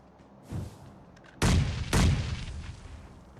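Grenade blasts in PUBG Mobile: a small thud followed by two heavy, close booms about half a second apart, each with a rumbling tail, and no talk over them.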